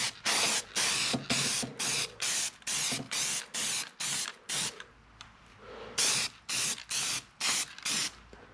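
Repeated bursts of spray paint hissing from a can onto metal parts of a 1960 Volkswagen Beetle, short regular blasts with brief gaps, close and loud.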